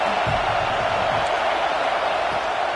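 A large football stadium crowd at a college game roars steadily as the home side pins its opponent deep in its own end. A loud, continuous wash of cheering runs throughout.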